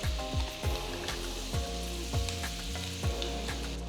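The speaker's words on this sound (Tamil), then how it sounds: "100 கிராம் உப்பு இல்லாத வெண்ணெய் சேர்க்குறேன்." 100 grams of unsalted butter sizzles and crackles steadily in a hot wide pan, close and fairly loud, with a few soft utensil taps along the way.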